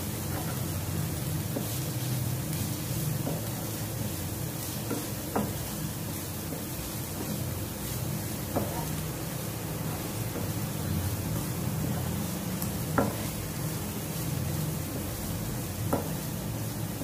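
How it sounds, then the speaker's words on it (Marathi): Spices stirred and sautéing in a pan with oil, turmeric, red chilli powder and garam masala, before jaggery goes into a Maharashtrian capsicum and besan dish; a steady, close sizzle runs throughout with a few sharp clinks of a stirring spoon. "मसाले 1 मिनिट परतून घेतल्यावर त्यात तुमच्या आवडीप्रमाणे गूळ घाला"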